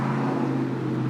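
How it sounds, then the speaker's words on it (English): Steady road traffic rumbling past outdoors, a continuous low droning hum of passing vehicles at moderate distance with no voices. "Sorry for the traffic."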